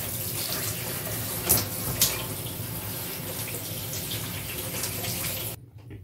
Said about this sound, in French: Et maintenant, je rince toute la couleur.